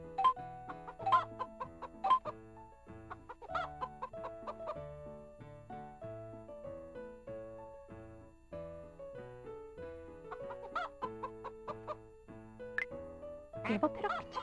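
Hens clucking in the V.Smile video game Cinderella's Magic Wishes from 2005, short repeated clucks scattered over a bright, bouncy musical backing, loud and close with no talk.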